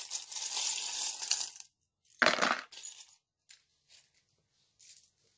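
Small metal divination charms are tossed onto a surface, giving a rustling jingle, then a sharp clattering spill followed by a few faint, scattered clinks as pieces settle, close and otherwise quiet.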